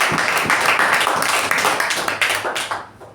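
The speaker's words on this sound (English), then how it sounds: "you've done a great job, big round of applause" Meeting audience applauding a speaker: a dense round of many hands clapping that stays fairly loud, then thins and fades out near the end.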